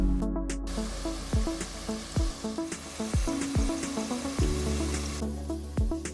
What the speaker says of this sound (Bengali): আলুগুলোকেও লো টু হাই ফ্লেমে ভাজতে হবে